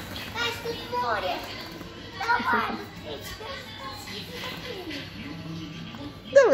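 Children play in an indoor play room, their high voices chattering and shouting in a lively, echoing mix with steady background bustle and a sudden squeal at the end.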